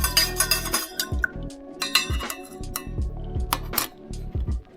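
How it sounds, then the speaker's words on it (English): Raspberry wine must is stirred quickly in a fermenting vessel before yeast goes in, giving a rapid run of close clinks and scraping knocks with low sloshing thuds, loud and busy, with no talk. "Give it a quick stir real fast."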